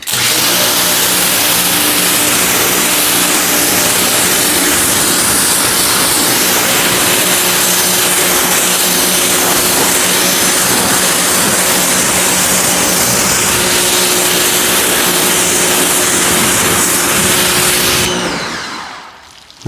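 A high-pressure washer rinses a car panel with a loud, continuous roar of spraying water and a droning pump motor, holding steady for most of the time before cutting off abruptly near the end.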